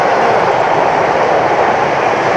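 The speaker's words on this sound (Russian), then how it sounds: "Электричка, которая сейчас проходит, она идет из Москвы экспрессом." Express electric commuter train from Moscow roaring past a station platform at close range, a loud, steady, dense rumble with rail noise throughout, no talk.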